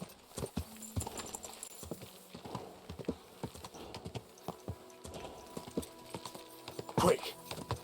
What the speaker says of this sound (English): Why is it just random horses in the middle of the roads?